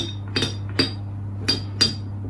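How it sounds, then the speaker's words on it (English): A spoon scraping sourdough starter off against a container, heard as four sharp, bright clinks spaced apart over a steady low hum, with no voices. "Scrape it all off the spoon"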